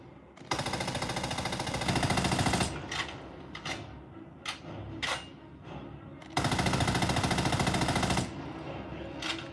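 Video game gunfire on a PS5, two sustained loud bursts of rapid automatic fire a few seconds apart, with shorter single shots and echoing pops between them, no voices.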